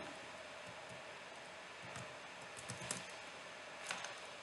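Light, irregular keystrokes on a computer keyboard while an SSH command is entered, soft clicks scattered over a steady background hiss, with a few sharper taps standing out.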